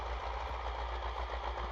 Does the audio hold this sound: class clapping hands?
no